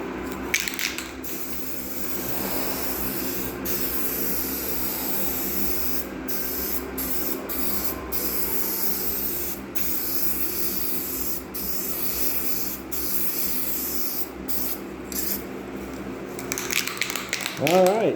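SEM Guide Coat Black aerosol hisses loudly and close onto a car body in long, steady bursts broken by brief pauses, with a rattling, fumbling noise near the end.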